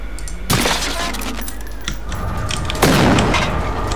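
Gunfire in the shooter game Generation Zero: two heavy, booming shots a couple of seconds apart with smaller cracks and clatter between them, loud and close.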